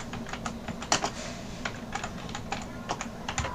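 Typing an address on a computer keyboard, a close, steady patter of quick key clicks with a few louder strikes, no voices.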